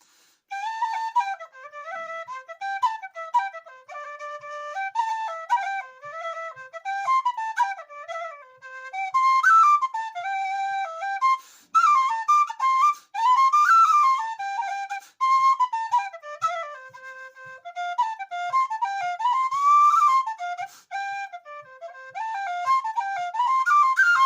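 A tin whistle plays a lively melody with bright ornamented notes, clear and close, with no talking.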